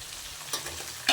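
Crushed garlic hitting hot oil in a pan, a soft steady sizzle with a couple of brief stirring scrapes, close and alone with no talk.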